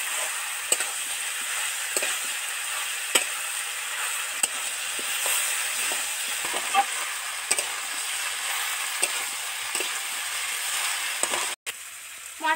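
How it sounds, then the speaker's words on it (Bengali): Spices with chili powder and turmeric being sautéed and stirred in a pan for a village-style vegetarian fig curry: a steady oily sizzle broken by regular spatula scrapes and taps, close and without talk. "এবার ধরে ধরে সুন্দর করে মশলাটার সাথে কষতে থাকবো"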